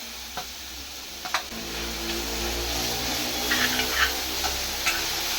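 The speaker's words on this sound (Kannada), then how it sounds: "ಒಂದು 2 ಟೊಮೊಟೊನ ಸಣ್ಣದಾಗಿ ಕಟ್ ಮಾಡಿ ಸೇರಿಸ್ಕೊತಾ ಇದ್ದೀನಿ." Chopped tomatoes are stirred and fried in a pan, giving a steady hiss and sizzle. A few sharp clicks of a utensil against the pan stand out, and no one talks.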